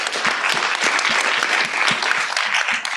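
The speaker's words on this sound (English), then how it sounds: "So maybe we can give all of them one more round of applause." An audience at a research symposium applauds the speakers, a loud, continuous, dense clapping heard up close with no talk over it.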